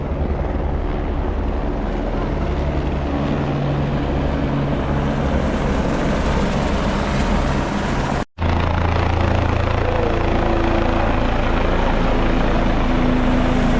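A helicopter flies near the Kedarnath helipad, its loud rotor and engine drone steady and close throughout, with a brief cut in the sound partway through.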